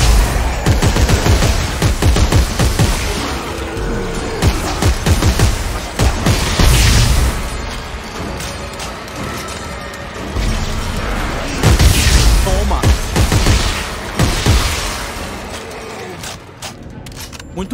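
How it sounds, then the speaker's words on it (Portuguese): In the Dead Space 3 video game, the main weapon fires impact shockwave shots amid heavy, repeated gunfire and booming blasts in loud bursts, while someone talks over the action. "a nossa arma principal, que é essa aqui, tem um tiro de impacto. Uma onda de choque que a gente empurra os inimigos."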